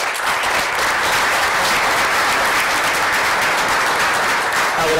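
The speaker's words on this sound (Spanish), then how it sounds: "le pido a ustedes un aplauso para ellos" Sustained applause from a seminar audience on peace between Palestine and Israel, thanking the panelists; steady, dense clapping fills the room at even loudness throughout with no talk over it.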